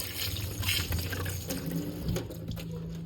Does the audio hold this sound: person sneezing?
no